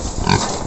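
A fattening pig on a hog farm grunts once at close range, one short burst in the middle of a brief moment, over steady barn noise.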